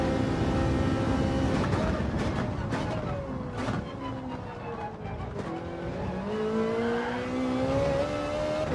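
A Ferrari race car in Gran Turismo 7 at Yas Marina or Fuji, its engine loud and continuous, pitch climbing and dropping through gear changes with occasional tire squeal.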